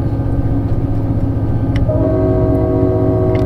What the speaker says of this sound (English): we're gonna spawn a train now